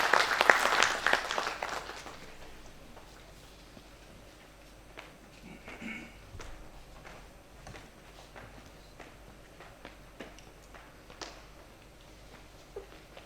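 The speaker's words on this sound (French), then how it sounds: "Applaudissements à notre professeur." Audience applause bursts out at the opening ceremony of a sports education event in a faculty hall, loud clapping for the first two seconds then fading to scattered, quieter claps and room noise.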